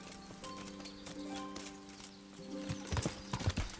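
Horse hooves clip-clop steadily on the ground in the medieval video game Kingdom Come Deliverance, a soft rhythmic trot heard at a moderate distance with a brief whinny.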